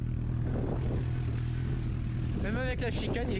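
A Suzuki GSX-S 750 motorcycle with an aftermarket exhaust and baffle fitted runs loudly nearby with a steady rumble, then briefly rises in pitch toward the end as it revs.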